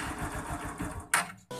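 A motorcycle engine cranks and catches after a voice-control start attempt, with rapid starter chugging followed by short bursts as it fires, close and fairly quiet.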